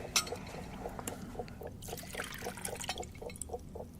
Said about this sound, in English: I'll pour the coffee.